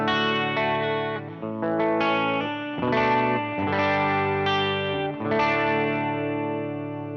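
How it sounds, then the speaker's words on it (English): An electric guitar runs through a chorus pedal with a light overdrive and light reverb, ringing chords shimmering and swirling across several strums, heard alone without talk. "Here's some chorus."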